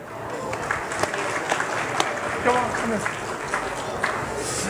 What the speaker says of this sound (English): Another big round of applause for Kelly.